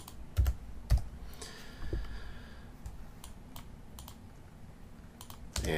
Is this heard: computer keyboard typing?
yes